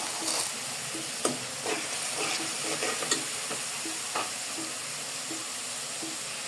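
Spice paste for duck curry fries in a hot pan with a steady, close sizzle and hiss, broken by occasional soft stirring scrapes and taps, no voices.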